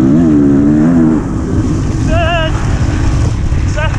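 Honda CRF 450R dirt bike with a modified air box accelerating hard in fourth gear, a loud, close engine roar that climbs in pitch, then steadies with wind noise; brief talk over the engine.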